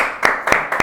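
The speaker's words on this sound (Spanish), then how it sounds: "Oscar, te damos un fuerte aplauso." Three separate sharp bursts of hand-clapping for a guest on an entrepreneurship talk show, each a short single clap-like hit, evenly spaced, close and moderately loud.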